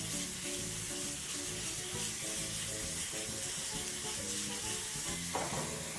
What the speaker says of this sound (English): So we're just going to allow those to continue grilling on some low heat